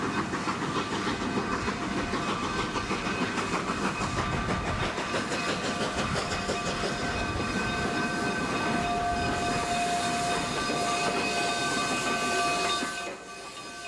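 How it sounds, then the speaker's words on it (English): A Denver & Rio Grande Western narrow gauge steam train climbs a steady grade toward Cumbres Pass in Colorado, with continuous loud chugging, hiss and rail clatter, then drops away abruptly at the end. "Our train is steadily climbing."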